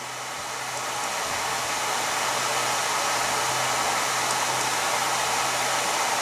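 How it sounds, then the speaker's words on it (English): Drill press motor driven by a VFD at 30 Hz, running at half speed in a home machine shop, a steady broadband whir with a low hum, near and constant, no talk. "That's 30 cycles per second, so the motor should be at half speed."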